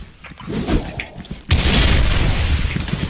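A deep video-game explosion in Special Force 2 booms partway through and leaves a sustained roaring rumble, loud and close, after a few softer thuds.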